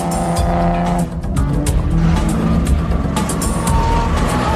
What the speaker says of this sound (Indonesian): sebuah mobil sport menyalip Bond, dan Bond pun terpacu untuk berbalap dengan wanita cantik yang mengendarai mobil tersebut